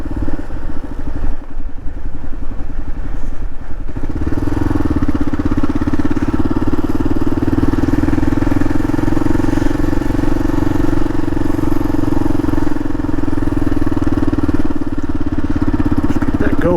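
A Kawasaki KLR 650 motorcycle engine drones loudly and steadily while riding, with a rough, clattery stretch early on before settling into a constant, close mechanical hum with wind rush.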